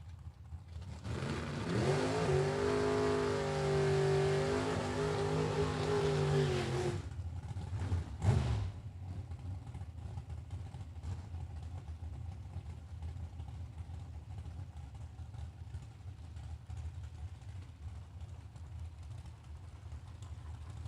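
A pulling truck's engine roars at a truck pull competition, revving loud for several seconds with rising and falling pitch, then dropping off abruptly into a distant rumble and crowd ambience across a stadium.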